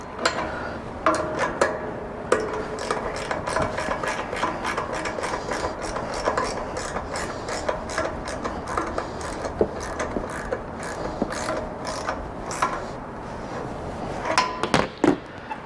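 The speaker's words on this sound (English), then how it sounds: "operate my wrench in the right direction, and tighten up this hardware underneath here" A wrench tightening roof rack mounting hardware on a Toyota 4Runner, a rapid series of close metallic ratchet clicks coming in bursts with short pauses between them, fairly loud and without speech.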